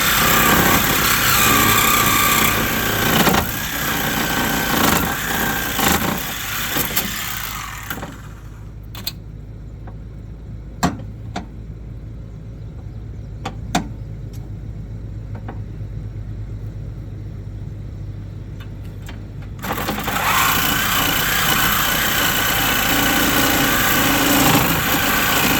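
Cutting off the rear crossmember (K-frame) bar of a car, a loud broadband cutting tool roaring continuously for several seconds, stopping for a stretch of quieter shop sounds with a few sharp clanks, then resuming at full volume.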